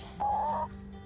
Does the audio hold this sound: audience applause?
no